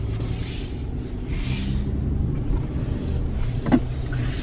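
A 2020 GMC Canyon Denali pickup truck drives along with a steady low engine and road rumble, quiet and continuous, with a brief faint knock near the end.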